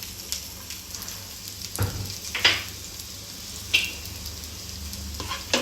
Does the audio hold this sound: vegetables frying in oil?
yes